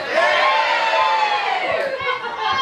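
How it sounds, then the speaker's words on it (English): Wedding guests at a bridegroom's speech cheer and shout together as a dense, continuous crowd roar, loud and close throughout with no break. "Crowd going for me, cheers."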